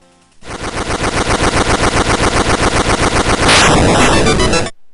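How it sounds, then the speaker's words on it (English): Retro 2-bit boss explosion from a Zelda game: a loud, rapid chain of identical crunchy blasts repeating steadily for about three seconds, then a bigger noisy burst with a descending shimmer before cutting off. "Just listen to this 2-bit explosion."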